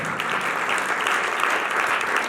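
An audience bursts into brisk, dense applause, close and steady for a couple of seconds.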